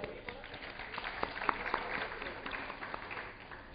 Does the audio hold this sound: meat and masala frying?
no